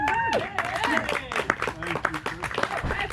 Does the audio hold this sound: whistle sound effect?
no